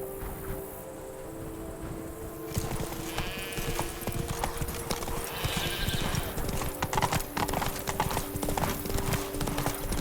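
Hooves of Roach the horse clop rapidly and steadily up close in The Witcher 3: Blood and Wine, with a brief whinny and background ambience layered over the galloping rhythm.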